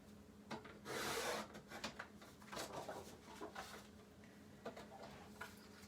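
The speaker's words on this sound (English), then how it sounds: "back into the trimmer, it's going to again trim this off" Paper being cut in a craft paper trimmer, a few faint close scraping and rubbing strokes of the blade sliding across the sheet, with quiet pauses between.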